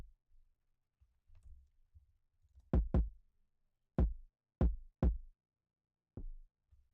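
Two layered kick drum samples blended, a few punchy hits, deep and thick, in an uneven pattern with short gaps of near silence and faint low thumps between.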